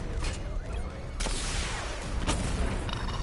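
Batman: Arkham Knight missile barrage: a roaring, noisy wash of launches and blasts, with sharper bursts punching through a continuous rumble.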